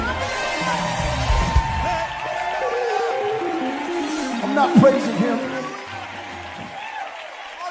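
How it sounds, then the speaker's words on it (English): A church congregation claps and cheers in praise, with scattered whoops and shouts rising over the clapping and a voice speaking through the crowd noise. "Come on, clap those hands and give him glory."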